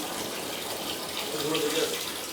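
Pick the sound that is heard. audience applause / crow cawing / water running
water running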